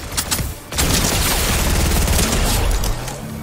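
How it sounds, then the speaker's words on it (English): Rapid sustained gunfire from another player in Fortnite rattles close by in a dense fusillade lasting several seconds, after a few sharper shots at the start. "There's a guy shooting around here."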